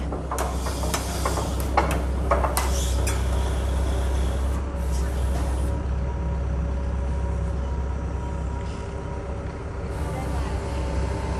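A repainted 2013 Kobelco SK135SR-2 YY06 excavator rolls forward with a steady low diesel rumble, joined early on by sharp metallic clanks and knocks, then settles into a continuous drone.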